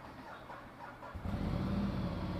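A Ducati Multistrada 1200 motorcycle engine cranks and fires up around the one-second mark, settling into a loud, steady low rumble at idle after a quieter lead-in.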